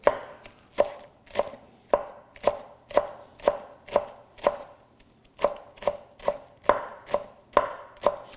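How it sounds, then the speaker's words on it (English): A knife finely chops green onions for a smoked Alaskan sockeye salmon dip, striking the board about fifteen times in a steady, close, crisp rhythm with no talking. "we're gonna add some green onions. Same scenario. We're gonna chop them up real fine."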